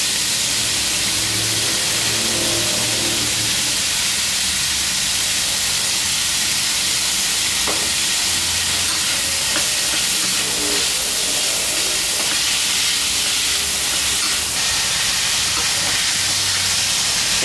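Pork stir-frying in a pan with ginger and onion gives a steady, loud sizzling hiss through the whole stretch, with a few brief clinks over the constant frying noise and no talk.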